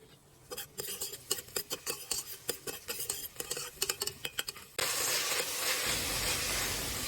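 Fava beans sautéing in olive oil in a pan, a utensil scraping and stirring in quick irregular strokes over a steady hiss, then a louder continuous sizzle takes over near the end.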